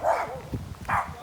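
A dog barks twice during a motorbike ride along a Trinidad road near Las Lapas, two short loud yaps separated by a brief gap, close by and alone without talk.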